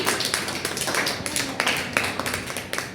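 Children in a classroom clap for a classmate in a short, uneven burst of scattered hand claps that fades over about three seconds, with a voice faintly present.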